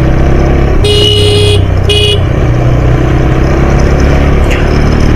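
A motorcycle engine hums steadily along a road, with two short car horn honks sounding partway through amid constant traffic noise.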